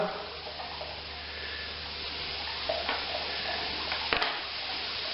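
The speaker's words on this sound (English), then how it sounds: "So I'm just going to get my sugar into the water." Sugar is stirred into about six litres of warm water for a sugar wash mash, giving a faint continuous swishing and grainy scraping with a few brief clinks near the end, heard close and alone.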